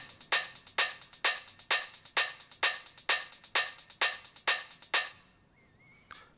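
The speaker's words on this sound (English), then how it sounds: "Next we have hi-hats that sounds like this." Open and closed hi-hat samples loop in a techno pattern, crisp, bright and even, with about ten evenly spaced hits over five seconds before cutting to near silence.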